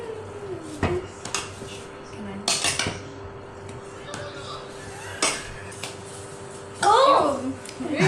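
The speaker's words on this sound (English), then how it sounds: "So now we can mix together." Baking batter being mixed in a bowl, with scattered clinks and knocks of a utensil against the dish and a louder scraping burst near the end, while people talk throughout.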